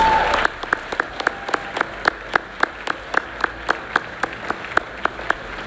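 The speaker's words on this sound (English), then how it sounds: "Please give all the pre-K through 5th grade faculty nominees a round of applause as they leave the stage." Sparse, rhythmic claps from an audience at a regional educators awards program as pre-K through 5th grade faculty nominees leave the stage; a few hands beat a slow, steady pattern, fairly close and moderately loud, with no talk.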